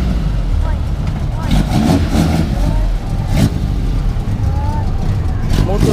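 A Volkswagen Passat with twin side-draft Weber carburetors revs steadily and loudly up close, with a continuous engine roar and people talking over it.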